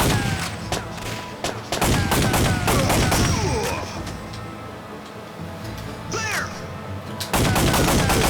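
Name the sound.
gunfire in the video game Time Crisis on PlayStation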